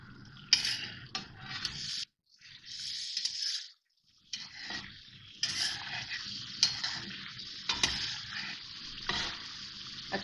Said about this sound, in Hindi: लहसुन अदरक और हरी मिर्ची शामिल करने के बाद 2-3 मिनट इसकी भुनाई करनी है।